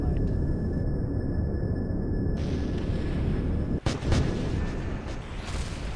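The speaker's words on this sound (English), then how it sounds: "there's the first explosion for the day" Rocket craft exploding in Kerbal Space Program: a constant, loud roar broken by one sharp, heavy boom about two-thirds of the way through, followed by the roar carrying on.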